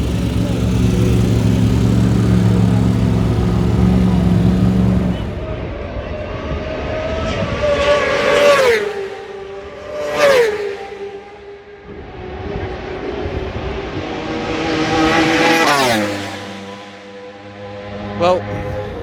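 Kawasaki ZX10 racing motorcycles at the North West 200 road races, loud engines droning and then rising and falling as bikes scream past one after another, some near and some farther away.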